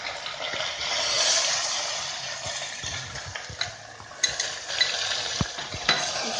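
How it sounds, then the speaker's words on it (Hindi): Onion paste frying in hot oil with ginger-garlic paste for raw banana curry, giving a continuous bright sizzle. Intermittent spoon scrapes and light clinks against the pan are heard close up, with no talking. "अब डाल देंगे प्याज का पेस्ट,"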